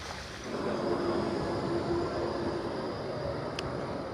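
A tram passes through the city streets of Basel, a steady low rumble and wheel roar rising after half a second and holding evenly, with a faint tonal whine and a brief high squeal near the end.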